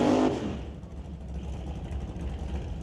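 A 1962 Acadia drag racing car at an old-time drag strip, its engine roaring loud and close after a sharp burst, settling into a steady rumbling drone as it pulls away.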